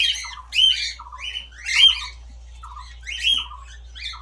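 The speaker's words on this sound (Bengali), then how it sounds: "এখন ককটেল দেখাচ্ছি, লাভবাগ বা বদ্রি।" Pet cockatiels, lovebirds and budgerigars squawk in a crowded chorus of shrill, close calls, with loud bursts repeating every second or so over a faint low hum.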